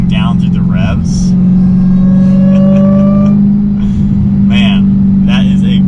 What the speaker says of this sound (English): that is a good sounding engine